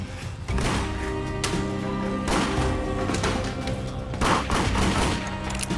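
Rapid gunfire from a homemade gun during target shooting, a dense continuous fusillade of shots with a few stronger bursts, loud and sustained.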